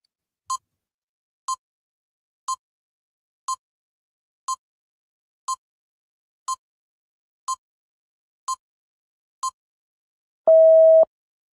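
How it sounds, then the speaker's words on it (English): A countdown timer gives ten short, evenly spaced electronic beeps one second apart, then ends in a longer, louder lower-pitched tone, clean and alone against silence. "I'm going to give you the timer."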